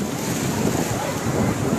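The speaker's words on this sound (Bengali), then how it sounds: "অনেক ঢেউ, অনেক বাতাস প্রবাহিত হচ্ছে" Sea waves crash on a beach as strong wind buffets the microphone, making a dense, constant roar of surf and gusts with no pauses throughout.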